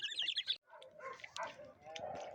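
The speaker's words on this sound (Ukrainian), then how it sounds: "Собаки гавкають, корови мукають." A short animal call, then a low drawn-out moo-like bellow from cattle, faint and somewhat distant, on an evening in a village.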